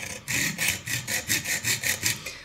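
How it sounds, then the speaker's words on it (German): Hand saw cutting through copper pipe for a DIY table card holder, a rhythmic back-and-forth rasping of about nine even strokes, close and steady with no talking. "jetzt, ohne viel Kraftaufwand, einfach nur in einem schönen Rhythmus immer vor- und zurück sägen"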